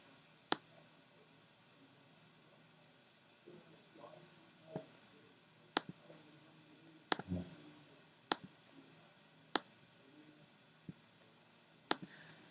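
Computer mouse clicking while drawing in Adobe Illustrator: about eight sharp, isolated clicks spaced irregularly over a quiet room background.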